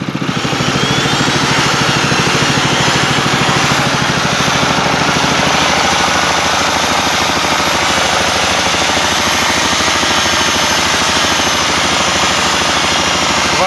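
A small homemade generator engine runs steadily and loudly throughout, a constant buzzing drone with a rapid rattling pulse, no voices.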